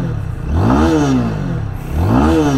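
A 2023 Dafra Apache RTR 200 motorcycle engine revs twice, each rev rising and falling in pitch, loud and close with a rough mechanical clatter underneath.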